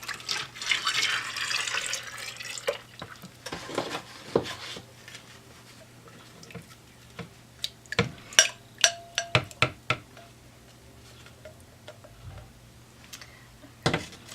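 Melted hard oils and butters for soap making poured into a container, a soft liquid stream early on followed by scattered taps, drips and clinks of utensils against the vessel over a low steady hum.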